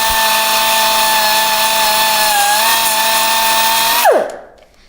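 A Tyrolit abrasive belt on a belt grinder cleaning a burr off a metal surface gives a loud, steady, close-up whine with a high tonal edge, then spins down and fades away over the final second; no voices.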